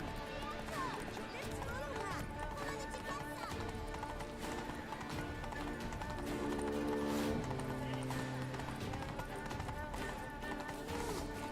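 Hooves clop in a quick, steady gallop from a horse in The Witcher 3 video game, with the occasional whinny, set under ongoing talk.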